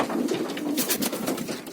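Soft, throaty pigeon coos repeat close by inside a pigeon house, alone, against a steady rushing background.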